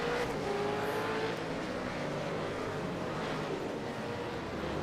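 A V8 race car leaves the pits on cold tyres in an East Coast V8 Series round, its engine a continuous mid-distance roar that stays fairly even throughout.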